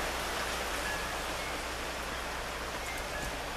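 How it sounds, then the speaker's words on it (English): Steady rain falling outdoors, an even, dense hiss of drops that holds constant throughout with no voices over it. "So hopefully it'll keep on raining here."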